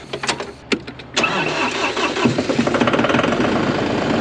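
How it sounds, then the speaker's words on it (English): A farm tractor engine cranks over with a few sputtering turns, catches, and settles into a steady, rumbling idle close by. "I need to fire up the tractor"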